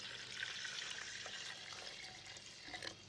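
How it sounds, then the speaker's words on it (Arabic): A cup of water poured into a cooking pot of chicken with tomato paste, a soft, faint continuous splash and sizzle under light kitchen clatter. "وهننزل بكوباية مية"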